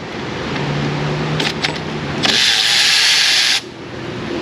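Power tool bursts, likely an impact gun, undoing bolts on a car in an auto repair shop: short stuttering hits, then a steady loud whir lasting about a second, over constant shop hum.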